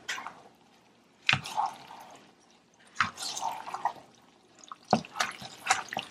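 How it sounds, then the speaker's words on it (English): A spoon stirs chili seasoning into a pot of meat on low heat. It makes soft, wet squelching strokes in three separate close bursts with quiet pauses between them. "I'm going to stir this all together now"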